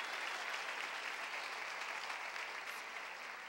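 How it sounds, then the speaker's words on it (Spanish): A church congregation claps steadily in sustained applause, a dense, even wash of many hands filling the room with no voices standing out. "Dele palmas al Señor."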